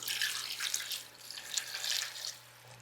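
Vegetable broth pours into a cooking pot for a creamy spinach and bean pasta, a bright splashing trickle in close uneven gushes that tapers off after about two seconds, with a faint low hum beneath.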